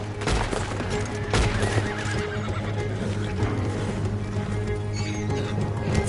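Horses in Red Dead Redemption 2 neigh loudly and whinny close by, with hooves clip-clopping beneath and bursts of gunfire in the busy game mix.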